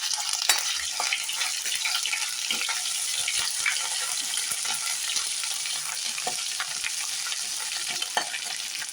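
Ginger garlic paste sautés with crushed cumin in hot oil for a cashew potato masala: a dense, even sizzle that hisses continuously up close, flecked with small pops and light stirring scrapes, and no voices.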